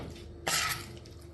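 A short burst of boiled and cooled water pours or splashes into pineapple pickle made with vinegar for under a second, then stops, leaving quiet room background.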